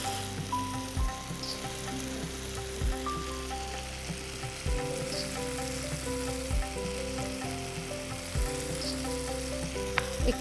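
Chopped tomato and turmeric powder fry in a hot pan, a steady close sizzle and hiss with occasional utensil knocks and a faint mechanical hum underneath, no one talking.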